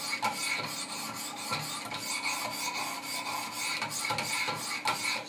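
Stroking a Benchmade 940 knife blade against 400 grit stones on a Wicked Edge sharpener gives a close, steady scraping rasp, with repeated strokes flowing together with no talking.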